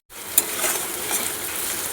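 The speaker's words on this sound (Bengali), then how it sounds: "উচ্ছে আর আলু আর একটু ভালো করে ভেজে নেব।" Bitter gourd and potatoes stir-fried in hot oil, producing a close, continuous sizzle with a sharp spatula clink near the start and soft stirring scrapes, with no voices.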